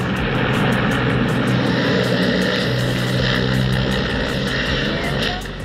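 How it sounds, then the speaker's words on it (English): A helicopter takes off, then malfunctions; a loud, steady rotor and engine roar with rhythmic blade chopping fills the clip, close by and fading slightly at the end. "This helicopter was supposed to deliver the president of Bolivia, Evo Morales, but malfunctioned immediately"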